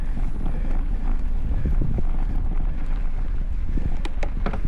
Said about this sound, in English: this wind is really blowing